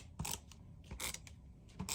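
Strips of tape are pulled off the roll and pressed down to secure artwork. The short, crisp ripping and tearing bursts come close and fairly quiet in an uneven rhythm, with no talking.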